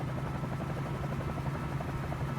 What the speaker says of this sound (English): the one thing about the 47J, it is a very analog helicopter